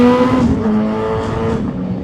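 An MV Agusta F4 1000 motorcycle engine revs loudly up close, a sustained high tonal roar that holds and then eases slightly over its short span, with no talking.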